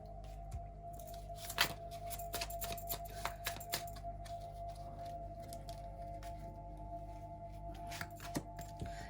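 Tarot cards riffle and shuffle in a run of quick papery flicks and taps close by, repeated through the stretch over a steady low hum.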